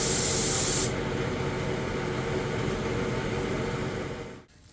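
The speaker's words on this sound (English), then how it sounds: "now we're doing a airbrush, and Ken is making quick work of it" An airbrush sprays paint onto a Cub aircraft, a loud bright hiss that ends abruptly under a second in, followed by a steadier, duller rushing air noise that fades out.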